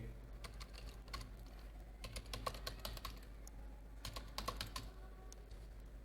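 Keys clatter on a computer keyboard while a stock-trading script for a Bank Nifty futures feed is entered in Python, coming in quick bursts with short pauses between them, close and fairly quiet over a low steady hum.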